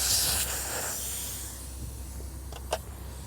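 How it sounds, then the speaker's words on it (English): Air hisses steadily out of a motocross tire and inner tube through the open valve stem after the valve core is removed, loud at first and then fading to a softer continuous rush, with a faint click near the end. "First thing you want to do is remove the air from the tire and the tube"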